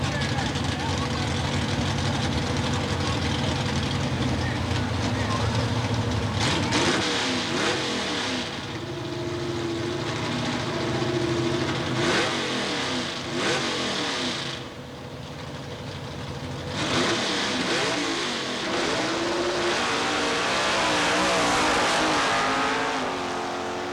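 Drag racing cars at Southeastern Dragway in Georgia during a 1990 weekly race night, loud engines roaring and revving continuously with launch surges, an announcer talking over the noise.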